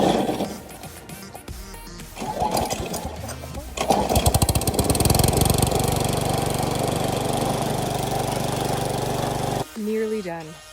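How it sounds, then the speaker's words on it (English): A lawn mower motor runs on a suburban Ontario lawn, revving up after a few seconds and droning loudly and steadily, then cutting out near the end as a voice briefly speaks. "Nearly done lawn mowing."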